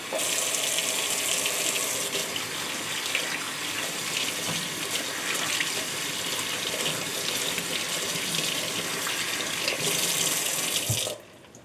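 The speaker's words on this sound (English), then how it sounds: "use fresh, clean water and thoroughly rinse the mask" A pocket mask is rinsed under a running tap with fresh, clean water, a steady close splashing stream that holds for about eleven seconds and then stops abruptly, with no one talking.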